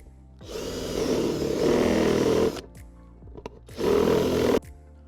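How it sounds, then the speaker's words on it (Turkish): A power drill fitted with a 16 mm hole-cutting bit bores through the centre of a plant pot, giving two loud, grinding bursts of about two seconds each, separated by a short pause. "Daha sonra saksının tam ortasından olacak şekilde bunu deliyorum."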